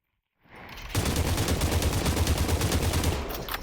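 Sustained rapid gunfire in the VR shooter game Population: One, starting after a brief silence and continuing as a dense, loud burst of shots.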